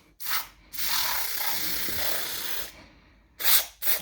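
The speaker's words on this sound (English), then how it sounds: "So I'm just going to put some WD-40 in." WD-40 sprayed into the wheel motor of a Eufy G10 robot vacuum, close bursts of hissing spray: one brief puff, a longer steady blast, then another short sharp burst.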